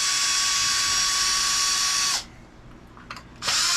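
A power drill backs out the bolts holding a skid plate on the underside of an RC truck, giving a loud, close, high-pitched whine for about two seconds, a short pause with faint clicks, then another burst.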